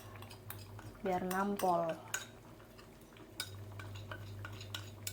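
Ingredients for ayam bakar balado go into a wok, with a clattering metal scrape and clink in the middle amid lighter kitchen knocks, while someone speaks briefly and a low steady hum runs underneath.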